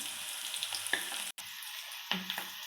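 Onion frying in a pan for a gongura pappu tempering gives a close, steady sizzle with soft scraping stirs and a brief dropout in the middle.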